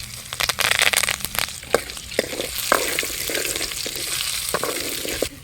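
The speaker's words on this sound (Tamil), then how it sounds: "அடுத்து வந்து கொஞ்சமாக இஞ்சி பூண்டு விழுது சேர்த்துக்கலாம் ஒரு கொத்து கருவேப்பிலை சேர்த்துக்கலாம்" Ginger garlic paste and curry leaves fry in hot oil for a Hogenakkal-style fish kulambu, a steady close sizzle with scattered crackles and pops and occasional stirring scrapes, no voices.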